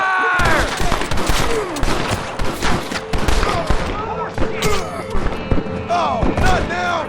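Gunfire in the Red Dead Redemption video game, a loud, dense fusillade of overlapping shots and sharp cracks with thuds, continuous across the whole stretch, with shouting voices mixed in.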